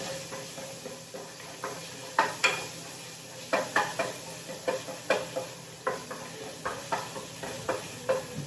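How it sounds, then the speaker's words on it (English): Garlic fries in a pot while being stirred, a soft continuous sizzle broken by repeated light scraping and clinking spoon strokes in an uneven rhythm, close by, with no voices. "You want your garlic to get a little brownish, a little bit, not a whole lot, just a little bit."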